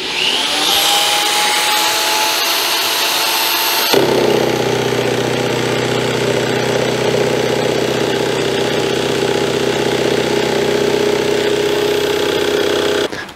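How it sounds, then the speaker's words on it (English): A steady, loud mechanical whine of a power drill running continuously, with a sharp shift in pitch and tone a few seconds in, then holding steady. "So let me turn on the drill and get started."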